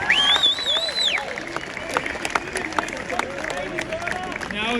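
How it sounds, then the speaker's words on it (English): Crowd at an outdoor anti-abortion rally outside New South Wales State Parliament in Sydney, giving a scattered round of applause and cheers, moderately loud and spread out, with a voice speaking over it at the start. "So give a big round of applause to them as well."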